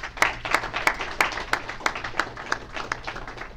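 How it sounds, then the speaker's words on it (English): A small audience at a cybersecurity meetup gives a brief round of applause, heard as a sparse, evenly spaced run of distinct claps, close and fairly loud, with no talking. "So let's give them a round of applause"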